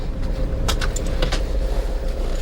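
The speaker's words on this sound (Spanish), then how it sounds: "¡Ay, tienes un auto atrás, bola!" Steady low engine and road rumble from a car travelling along a rough road, with a vehicle behind, continuous and fairly loud with a few faint clicks and rattles on top.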